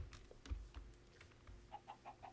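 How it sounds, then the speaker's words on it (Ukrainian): Chickens cluck in the video game Minecraft, a few short soft clucks spaced out, with a quicker run of clucks near the end, faint and without speech. "Так, ось мої курчата."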